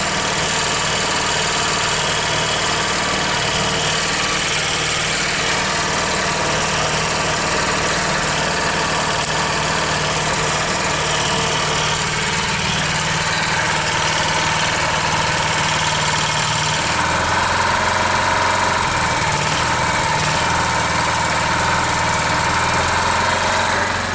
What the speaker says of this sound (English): So there you go, I've got a generator as well.